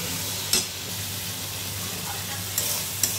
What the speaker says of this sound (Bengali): একটু না ভাজলে আবার রসুনের ফ্লেভারটা বেরোবে না, তো সেই কারণে একটু ভাজা ভাজা করে নিচ্ছি